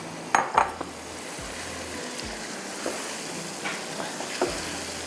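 Boiled mutton fries in a pan with an even, hissing sizzle, opening with a couple of metal utensil clanks and followed by soft stirring scrapes.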